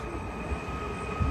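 Steady low rumble of a train, heard from near the track or on board, a continuous rolling drone with a heavier surge of low noise at the end and no voices.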